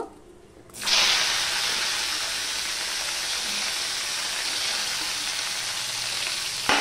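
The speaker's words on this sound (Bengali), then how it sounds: "প্রায় 2 মিনিটের মতন আমি উচ্ছেটা ভেজে নেব।" Bitter gourd pieces dropped into hot oil tempered with five-spice, bursting into a loud, steady close sizzle after a moment of quiet and hissing continuously to the end.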